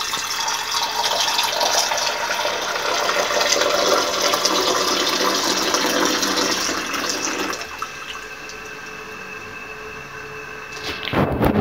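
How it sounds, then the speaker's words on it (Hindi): Warm milk pours steadily into a container coated with yogurt to make homemade dahi, a continuous close splashing rush that stops abruptly near the end and leaves a quieter background. "उसमें फिर हम दूध डालेंगे ऐसे"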